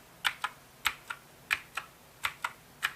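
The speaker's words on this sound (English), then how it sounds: "he types like this" Keys on a computer keyboard are struck close up, about a dozen crisp clicks in an uneven, unhurried rhythm over a quiet background, with no talking.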